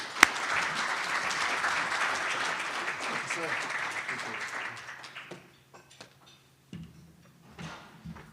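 Audience applause at a chamber of commerce luncheon, a steady broadband clatter of many hands lasting about five seconds before fading into scattered claps and room noise, with a few muffled voices and shuffles under it.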